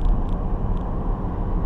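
BMW X6 xDrive40i engine pulling under light throttle, a steady low broadband drone with a few brief higher-pitched ticks, heard from inside the cabin with no talking.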